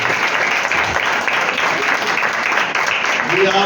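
Clapping from a congregation during an Urdu/Hindi church sermon, a dense and even wash of many hands held at a steady loudness throughout.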